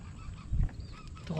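Wild bird calling during bird netting in Santa Barbara, Pangasinan, Philippines: a single short honking call, fairly faint and distant, over outdoor background noise.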